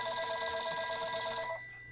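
Old telephone bell ringing with a solid, steady metallic ring, loud and close for about a second and a half before it cuts off, leaving a faint hum.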